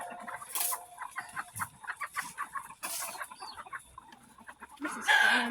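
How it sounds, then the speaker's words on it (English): Chickens cluck and squawk steadily on a farm while being sprayed with a Super Soaker water gun, with several louder whooshing bursts of spray cutting in between the close, busy clucking. "I'm gonna squirt those chickens."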